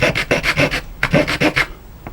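Serrated back edge of Laoa LA813406 electrician's scissors rasped across wood, giving two bursts of rhythmic back-and-forth filing strokes, close and fairly loud, with a brief pause between sets.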